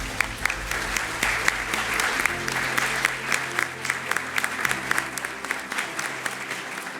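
Round of applause at an academy diploma and induction ceremony, sustained crowd clapping with sharp individual claps standing out over a low hum.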